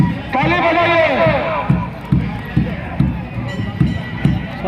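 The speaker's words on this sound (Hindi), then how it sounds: "ताली बजाइए" At an outdoor desi dangal wrestling bout held for Lakshmi Puja, a crowd claps in a steady rhythmic beat that builds after an announcer's amplified voice and continues under the noise.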